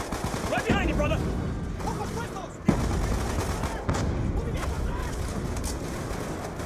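Sustained automatic gunfire in Call of Duty Black Ops 2, loud bursts with a machine gun firing from a window, mixed with battle noise and shouted voices throughout.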